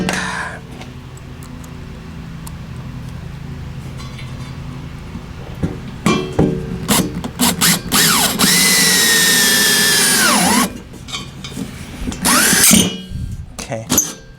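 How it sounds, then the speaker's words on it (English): A high-powered power drill drives small self-tapping screws while monitor frame parts are fitted into a Midway Pac-Man Cabaret arcade cabinet under restoration. Short loud bursts build to a long winding whine, with metallic clinks around it, close up. "I'm also using my drill, which has a lot more horsepower."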